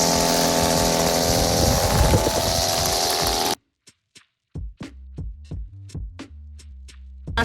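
A gas-powered string trimmer engine runs loud and steady for a few seconds, then cuts out to near silence before a string of short, sputtering bursts as it is started again.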